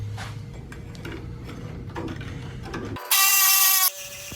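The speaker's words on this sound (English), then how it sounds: "we're going to steer clear of being anywhere close to this while we cut it" A welded part being cut off a small tire race car: a buzzy grinding rumble for three seconds, then a brief, bright high-pitched whine of the cutting tool, close and moderately loud.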